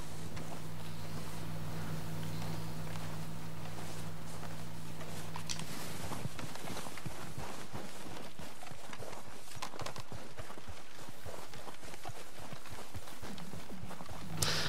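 Steady clip-clop of horse hooves in Red Dead Redemption 2, with a constant low hum and wind-like noise underneath, continuing throughout.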